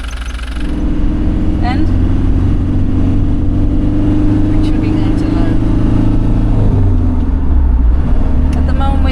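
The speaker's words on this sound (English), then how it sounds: "Now we're going to start the motor." A vehicle motor on a road trip through Argentina starts and settles into a loud, steady droning run close by, with a constant low hum and brief talk over it.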